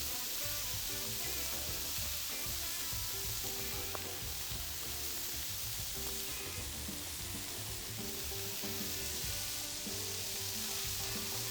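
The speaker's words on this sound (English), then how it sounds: "Last step is we're going to toast our buns quickly." Burger buns toast on a hot griddle while smashed burger patties cook, giving a steady, even frying sizzle that stays constant throughout with no voices.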